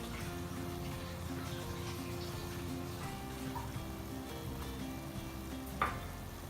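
Sauce poured into a hot pan of sizzling chicken and shrimp fajita filling, a steady close frying hiss with soft liquid splashes and a brief clink near the end, no talking.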